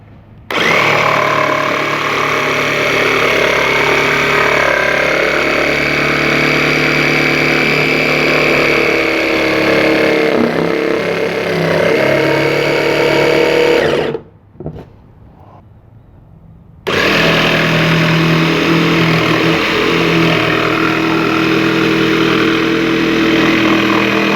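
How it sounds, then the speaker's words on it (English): A jigsaw cuts out a wooden frame piece for a rubber band race car with a loud, continuous buzzing whine. The blade stops briefly near the end, then the cutting resumes just as loudly. "This is our jigsaw that I'm going to use, and I'm going to cut out this piece for our frame."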